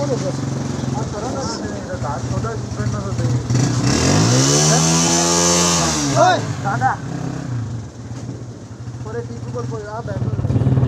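A motorcycle ridden through a village, its engine note swelling loudly and then fading over several seconds, with people talking around it.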